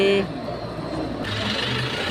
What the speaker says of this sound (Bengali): এবার চলে গেল গাড়ি